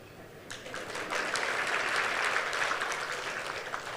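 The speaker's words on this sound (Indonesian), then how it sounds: "Saya mau tanya, kenapa saudara tepuk tangan?" A church congregation claps in a sustained, even wash of applause that swells after a quiet start and holds steady at moderate distance, with no voices standing out.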